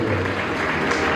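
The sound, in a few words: loud audience applause at a talent show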